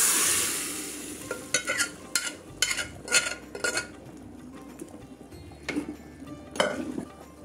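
Vadagam tempering poured into spinach dal, a hot splashing sizzle followed by repeated metal spoon clinks and scrapes against the pot as it is stirred, close and uneven in rhythm.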